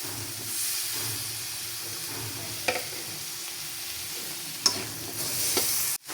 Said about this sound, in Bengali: আমি টমেটোটা ডিমের সাথে ভেজে নিব